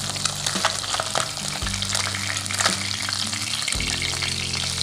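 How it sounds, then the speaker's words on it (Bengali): Small mourala fish fry in a kadai over a medium flame, giving a loud, dense, continuous sizzle close by with a faint low hum underneath and no talking. "আমি পুরো মাছটাই কড়াইতে দিয়ে মিডিয়াম ফ্লেমে রেখে মাছগুলোকে ভেজে উঠিয়ে নেব"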